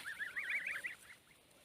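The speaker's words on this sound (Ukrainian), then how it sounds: "Пасуться гусики мої." Domestic geese grazing on grass give a quick run of nasal honks for about a second, close and fairly clear, then fade into quiet outdoor background.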